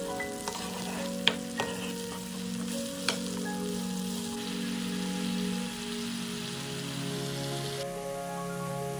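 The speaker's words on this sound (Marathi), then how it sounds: "टोमॅटो प्युरी तेल सुटेपर्यंत फ्राय करा" Tomato puree fries in oil with red chilli powder for paneer butter masala, giving a steady rain-like sizzle with a few sharp utensil clinks early on. The frying continues without pause throughout.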